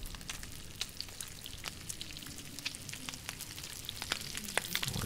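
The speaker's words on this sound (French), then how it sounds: "on va faire cuire ça" Food cooks over a campfire in the survival video game The Long Dark, giving a faint, steady crackling sizzle with scattered sharp pops, heard alone without talk.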